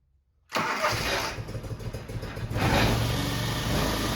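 A John Deere 445 lawn tractor's engine cranks and catches after a brief silence, then runs steadily at a loud, close idle with a slight rise in revs toward the end.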